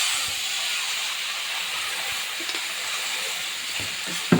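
Water poured into a hot pan of potatoes and figs sets off a steady, loud hissing sizzle that holds for several seconds with small pops and crackles.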